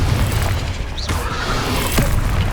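A Confringo fire spell explodes in the video game Hogwarts Legacy, a loud booming rumble with a bright crackling burst near the middle, heavy and sustained across the moment.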